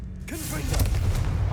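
A Confringo explosive spell blast in Hogwarts Legacy, a single loud, booming burst that swells and lingers with a rumbling tail.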